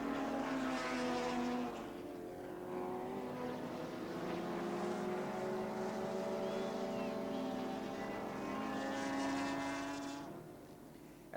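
A touring race car at Oran Park revs hard for a long stretch, its engine note rising and holding loud and close, then dropping away near the end.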